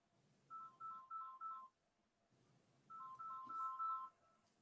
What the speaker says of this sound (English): That's my work phone.